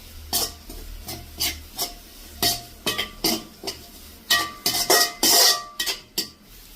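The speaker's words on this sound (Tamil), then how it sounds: "போட்டுட்டு இப்போ கிளறி விட்டுட்டு கொஞ்சம் விட்டா சரி." A spoon stirs grated coconut around a cooking pan in a steady series of sharp, close scraping strokes, each a distinct burst of metal rasping, over a faint background sizzle.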